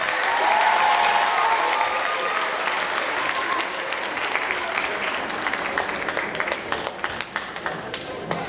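A school talent show audience claps for a student singer, thick sustained applause that thins toward the end into scattered individual claps.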